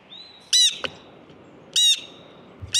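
A blue jay imitating a red-shouldered hawk call, two loud harsh screaming squawks about a second apart plus the start of a third, close and clear over a quiet background.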